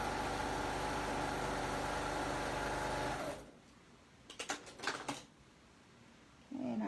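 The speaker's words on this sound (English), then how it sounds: "Now on the lining side, well here, let me just sew these" A sewing machine stitches the lining of a snap bag in a steady, close, loud whirring run that stops after about three seconds, followed by a few soft handling clicks and rustles.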